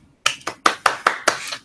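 A single person claps their hands six times at a steady moderate pace. The claps are sharp and close, with no other sound around them.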